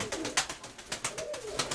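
A pigeon coos softly in an upper dovecote, a few quick rhythmic burbling notes at close range with no talk.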